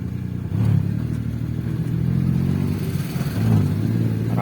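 A car's engine in a driving lesson hums steadily at low pitch as the clutch is let out, rising in effort twice as it pulls away, heard up close without talk.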